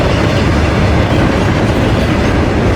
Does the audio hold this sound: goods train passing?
yes